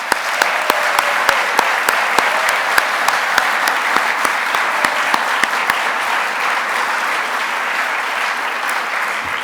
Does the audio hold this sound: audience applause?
yes